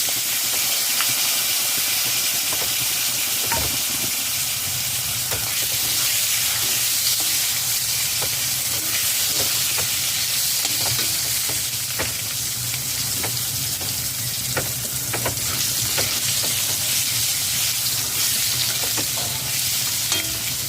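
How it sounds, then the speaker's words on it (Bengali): Boiled potatoes fry over low to medium flame in a wok of oil left from frying fish, with black cumin and green chillies, giving a loud continuous sizzle and hiss with repeated scraping stirs. "লো টু মিডিয়াম ফ্লেমে তিন মিনিট ভেজে নিয়েছি আলু"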